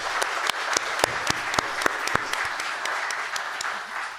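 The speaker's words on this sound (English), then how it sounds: "big round of applause to everyone" An audience at an AI debate breaks into applause, a dense, sustained crowd clapping with sharp individual claps standing out, steady for several seconds and easing off slightly at the end.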